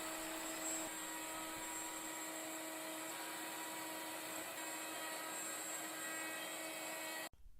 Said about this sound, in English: While I'm showing you this on a handheld CNC called the Shaper Origin